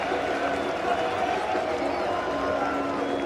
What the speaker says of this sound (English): He deserves the applause